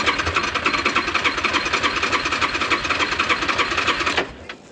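A ten-year-old four-wheeler ATV with a known starting problem is cranked. The starter chugs rapidly and evenly for about four seconds, loud and close, then cuts off without the engine catching.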